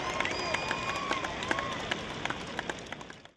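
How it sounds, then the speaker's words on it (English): Crowd applause at a college Hall of Fame induction ceremony, a dense wash of clapping with scattered sharp claps, steady then fading out near the end, with some voices mixed in. "a round of applause for Mitch Rippey."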